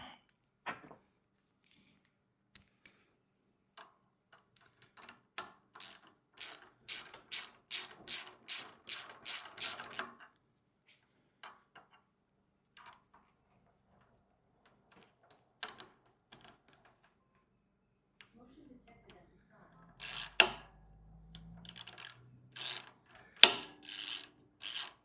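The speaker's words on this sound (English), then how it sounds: "get this up all the way, get that nice and tightened down." A hand ratchet tightens a bolt on the handle mount of a 2.8 HP gas plate compactor, giving a quick run of close, crisp clicks, then scattered single clicks and a second burst near the end, with no talking.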